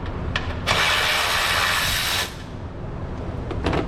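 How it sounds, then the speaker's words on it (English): Power tool spinning bolts off a Chrysler 300C engine near the coolant reservoir, one loud whirring burst lasting about a second and a half, framed by light clinks and handling noises. "I am going to take the bolts off of it so I can move it"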